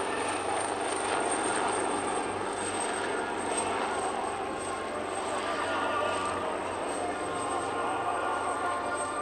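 An HH-139 helicopter flies past trailing the Italian flag at an Italian Air Force airshow, a steady rotor and engine drone holding for several seconds at moderate distance with a high whine above it.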